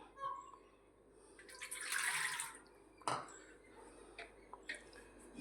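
Water poured from a bowl into rice flour for Gujarati khichu: a faint, splashy pour of about a second, then a small plop and light drips, with soft talk nearby in a quiet kitchen.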